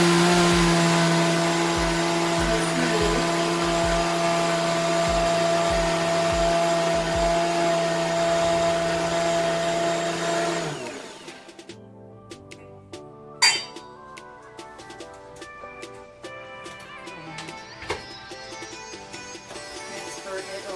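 Blender on its soup setting puréeing a sweet potato and carrot curry, a loud steady motor whir with rhythmic low thumps that cuts out partway through, followed by quiet clinks and handling sounds.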